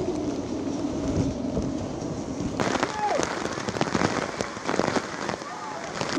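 Typhoon wind and heavy rain pour down steadily, a dense close wash that turns harsher and louder partway through, with scattered sharp patters and gusts over a low rumble.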